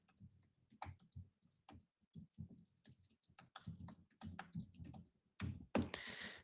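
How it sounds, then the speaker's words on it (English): Typing on a computer keyboard while entering a password, quick irregular bursts of key clicks and taps, close and fairly quiet. "typing and talking is hard"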